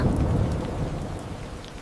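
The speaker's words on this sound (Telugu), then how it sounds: "బయట వర్షం పడుతుంది కదా" Steady heavy rain pouring down, a dense continuous hiss and patter with low rumbling underneath, no voices.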